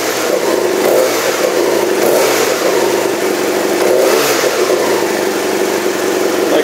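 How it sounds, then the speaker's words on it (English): A 2012 BMW F800R motorcycle with a left-side exhaust revs loudly and close up, its engine holding a steady, continuous roar with slight rises and dips in pitch and no talking over it. "It revs really well."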